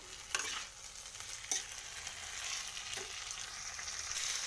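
Cauliflower stalk curry being sautéed in a pan, giving a faint, steady sizzle with a few soft spoon scrapes at intervals, quiet and close.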